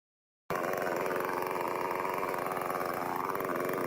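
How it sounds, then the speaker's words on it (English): Chainsaw engine bursts to life after a short silence and runs loudly and steadily in a forest during tree cutting, a raw buzzing drone with slight pitch shifts, close and alone. "In the silent forest, the chainsaw screams"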